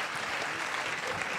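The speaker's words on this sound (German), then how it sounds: "Einen großen Applaus für Mona Harry." Dense, even applause from a poetry slam audience in a small venue, loud and continuous, many hands clapping together without pause.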